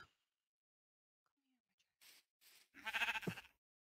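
A few short bleats from a sheep in Minecraft, followed by a louder, longer bleat, with quiet gaps in between.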